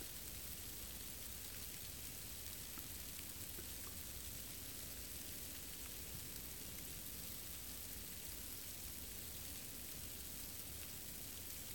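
Very fine rain hisses steadily through spooky woods, a soft, even wash of patter that stays faint and unbroken throughout with no voices.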